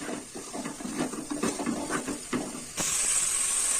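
Chicken sautés with chili powder and salt in a pan for a Tamil chicken kurma, giving a steady broadband sizzle broken by scraping stirs, then a louder, denser hiss over the last second.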